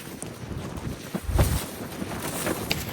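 Wind buffets the microphone outdoors near a bridge, with low rumbling gusts and a faint watery background, one stronger gust swelling briefly midway.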